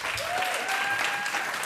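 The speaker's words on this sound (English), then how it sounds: "One more round of applause." Audience applause at a conference, steady broadband clapping from a hall crowd filling the short stretch with no speech over it.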